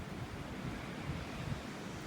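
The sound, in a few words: wind and ocean waves on the shore in North Naples, Florida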